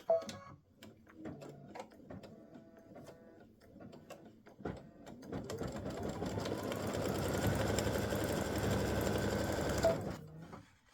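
An embroidery sewing machine stitches a football design, starting with scattered clicks and short buzzing runs before settling into a loud, continuous rapid stitching whir that stops abruptly near the end.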